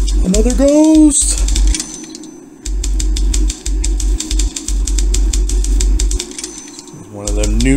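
Self-typing automatic typewriter from The Room Two game, a long run of fast, crisp key strikes with brief gaps, bracketed by rising and falling mechanical whirs at the start and end.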